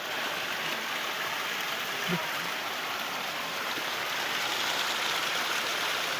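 Continuous broadband rush of the Savtada waterfall in Maharashtra, steady and loud throughout, with a faint brief thump in the middle.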